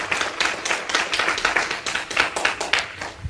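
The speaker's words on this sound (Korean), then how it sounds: "큰 박수를 영광으로 올려드리겠습니다" A congregation at a church assembly claps together in a lively, fairly close burst of rapid handclaps, steady and uneven in rhythm, with no voices over it.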